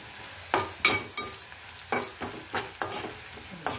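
Bitter gourd spice mix frying in a pan, stirred with a steady rhythm of about eight scraping strokes over a continuous hiss of sizzling oil, close and fairly loud, no voices.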